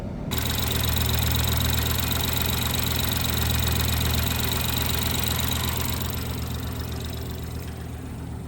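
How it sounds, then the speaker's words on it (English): A BMW engine with a suspected head gasket fault idles steadily, a loud, even rumble with a slight knocking vibration that holds for several seconds before easing a little, with no talking. "Let's start this car up."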